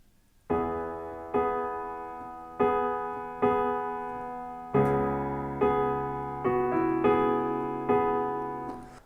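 Piano playing the first chorus of a song: sparse, open chords struck about once a second, each decaying before the next, soft and intimate with no talking.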